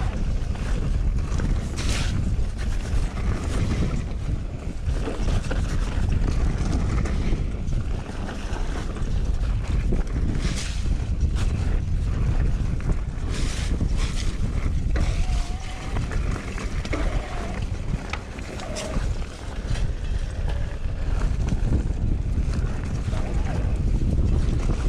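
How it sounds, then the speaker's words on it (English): Steady, loud wind roaring and buffeting against the microphone on an open mountain-bike trail at Cannock Chase, with low rumbling gusts and no clear talk. "Windy out in the open."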